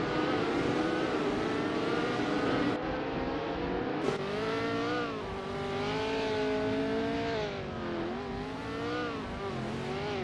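Several race car engines in a racing video game whine continuously at high revs, pitch rising and falling through gear changes, loud and steady with no talk.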